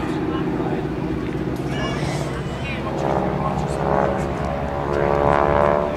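A 5,500-pound propeller airplane's Pratt & Whitney air-cooled radial piston engine drones steadily at a distance during an airshow, swelling slightly louder toward the end, with a voice briefly audible over it.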